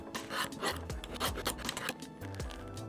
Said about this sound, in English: we'll do some heavier strokes with the ceramic